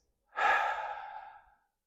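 A single slow, audible exhale during a mobility exercise session: a soft breathy release that swells quickly, then fades over about a second, close and alone in silence.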